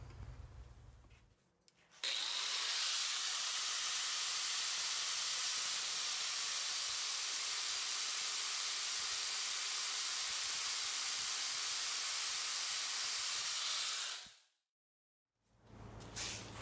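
Fuel line tubing for an LS swap fuel system is cut with a power tool, producing a loud, continuous high-pitched hiss and whine. It lasts about twelve seconds at close range, then cuts off abruptly.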